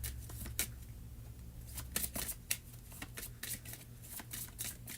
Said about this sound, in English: So we shuffle.